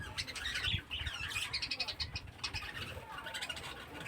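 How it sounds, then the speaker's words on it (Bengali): Pet birds chirp busily and close by while being fed weed leaves for the first time, with a steady flurry of tweets and soft calls and a person talking over them. "ফার্স্ট টাইম দিচ্ছি এদেরকে আগাছা পাতা"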